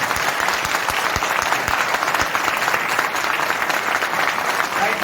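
A seminar audience gives sustained, dense applause, many hands clapping together at a steady loud level from start to finish, with no single voice standing out.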